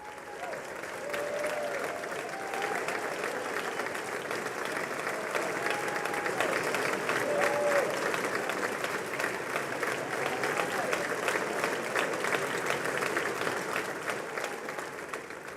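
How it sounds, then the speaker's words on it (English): Members of the House and Senate of the US Congress, on their feet at a joint meeting, applaud Israeli Prime Minister Benjamin Netanyahu's arrival with steady, sustained clapping and crowd noise that holds throughout without a break. "All the members of the House of Representatives and the Senate have now risen to their feet and are applauding as Israeli Prime Minister Benjamin Netanyahu"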